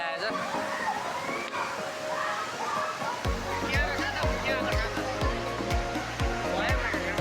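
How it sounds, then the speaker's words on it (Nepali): Kulung waterfall's main falls in Morang, cold water pouring down from above, makes a steady broadband rush under voices, with rhythmic music entering partway through. "यो चाहिँ मेन झरना हो"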